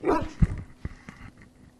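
A dog in the Xbox 360 game Dragon Age Origins gives one loud, close bark, followed by a few softer, shorter yips and growling sounds.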